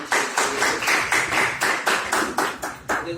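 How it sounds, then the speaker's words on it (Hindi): Loud, rhythmic clapping from an audience welcoming a guest speaker onstage, a steady run of sharp, evenly spaced claps that keeps going throughout. "तो एक बार वरना जी के लिए बहुत जोरदार ताली हो जाए"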